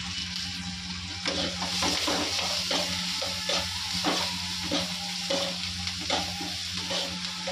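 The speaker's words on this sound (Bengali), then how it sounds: "আর এখানে পেঁয়াজ লঙ্কা দিয়ে দিয়েছি, ভাজা ভাজা হোক।" Onions and green chillies fry in a pan with a continuous close sizzle and regular stirring scrapes, under a steady low hum.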